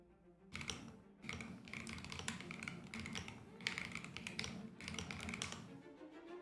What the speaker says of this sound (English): And the keyboard sound, y'all like that?